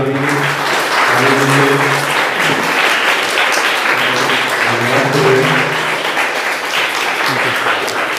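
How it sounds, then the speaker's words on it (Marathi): Loud audience clapping at a school event, a sustained dense round of applause with voices talking and calling out beneath it throughout. "मोठ्या एकदा टाळी मारून"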